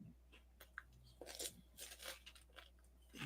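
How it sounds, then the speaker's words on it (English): A person munches food close to the microphone, with crisp crunching bites and chewing in uneven bursts over a low steady hum. Nobody speaks. "Pardon my munching, by the way."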